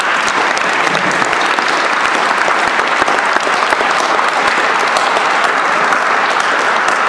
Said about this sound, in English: let's give all those people from Augsburg a big round of applause